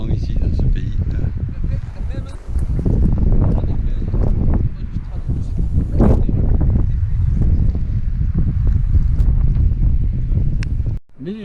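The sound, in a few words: wind at a rugby field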